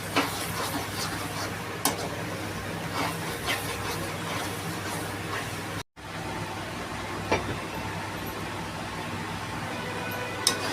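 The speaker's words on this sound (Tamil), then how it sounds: "கொஞ்சம் மசாலாவெல்லாம் நல்லா வதக்கிச்சு கொஞ்சம் எண்ணெய் பிரி வர்றப்போ" Masala sizzles steadily in hot oil in a pan for fish curry, a constant close frying hiss broken by occasional sharp clicks and one brief dropout, with no talking.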